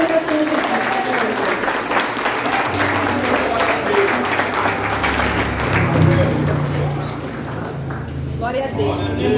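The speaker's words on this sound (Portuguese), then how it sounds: "Palmas para o Senhor." A congregation at a Portuguese-language family church service applauds steadily and loudly throughout, with a crowd murmuring and voices talking beneath the continuous clapping.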